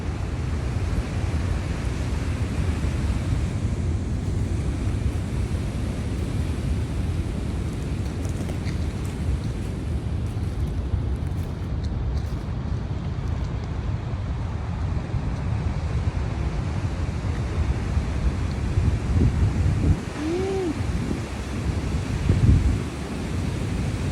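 Ocean waves and strong wind batter a flooded coastal seawall in Rye, New Hampshire, a steady loud roar of surf and wind rumble continuing without pause and with no voices.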